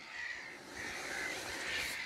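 A black-headed gull colony calling in a continuous harsh chorus of overlapping squawks, fairly distant and steady, with no talking.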